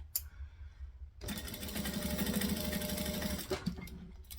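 A sewing machine runs a short burst of stitching on a bucket bag, close and clear, its fast rhythmic needle chatter starting abruptly after a brief pause and stopping after about two seconds.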